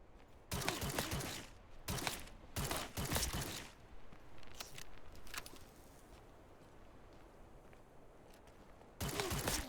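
Pistol shots in the survival game Skopje '83, several sharp cracks spaced irregularly over a quiet background, with a final burst at the end; no talking.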